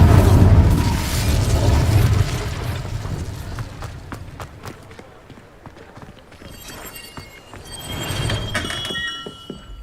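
An Incendio fire spell in Hogwarts Legacy bursts out as a loud, low roaring whoosh at the start and fades into scattered footsteps. A second, softer rumble swells near the end.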